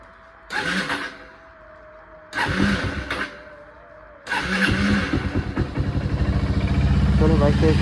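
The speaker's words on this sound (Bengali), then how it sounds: "চলো বাইকটাকে বলে স্টার্ট করে দিলাম" A motorbike engine cranks in short bursts, catches and settles into a steady, close idle with a throbbing low rumble, with speech heard among the starting attempts.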